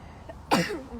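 A single sharp, close sneeze bursting out abruptly, with a brief breathy trailing tone afterward.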